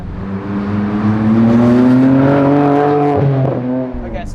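A BMW E30 M3 race car's engine climbs steadily in revs on a track, loud and close, with rising harmonic tones before easing off near the end.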